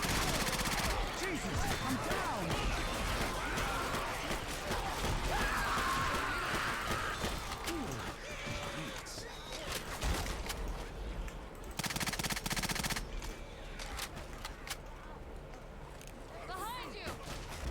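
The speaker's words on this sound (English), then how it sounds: "Grabbing a machine gun" Rapid automatic machine-gun fire from a weapon in the zombie shooter game Left 4 Dead 2, dense, loud and nearly continuous for the whole stretch, with brief breaks between bursts.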